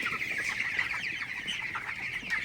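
Dense, continuous clucking and chattering from many broiler chickens raised on a litter floor, a steady flock murmur with no pauses, fairly close.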